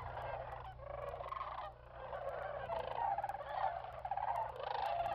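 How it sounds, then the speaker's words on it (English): Flocks of cranes and geese fly in at sunset at Bosque del Apache National Wildlife Refuge, New Mexico, their honking and trumpeting calls rising in repeated overlapping waves, fairly near and steady, with no talk. "It is an unforgettable experience to view wave after wave of cranes and geese flying in"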